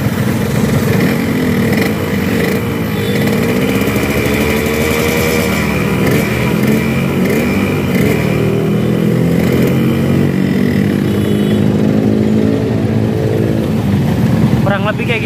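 A GPA X1 two-stroke motorcycle engine running cold on ester oil, with a steady loud drone whose pitch rises and falls as it is revved repeatedly; someone talks over it throughout.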